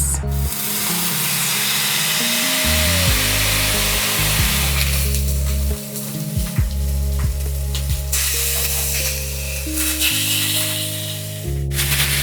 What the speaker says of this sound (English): Time to sear our chops and get that crust on for about 2 to 3 minutes on each side.